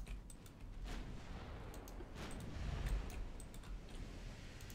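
Warship main and secondary guns fire in a naval battle game, with dull low booms and rumbling blasts spread across the moment and sharp ticking clicks from the interface overhead.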